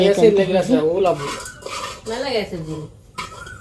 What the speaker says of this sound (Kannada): ಇನ್ನು ಇಲ್ಲಿ ತೊಳೆದಿಟ್ಟಂತಹ ಅಕ್ಕಿನ ಹಾಕಿ ಈಗ ಮಿಕ್ಸ್ ಮಾಡಿ ಮತ್ತೆ ದಮ್ ಕೊಡ್ತಾರೆ ಅಂತೆ.